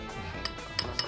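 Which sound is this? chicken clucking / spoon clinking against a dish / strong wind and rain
spoon clinking against a dish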